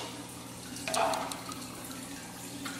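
A cup dips into a home aquarium tank holding cichlids, giving a brief close splash and slosh of water, followed by faint dripping over a steady low hum.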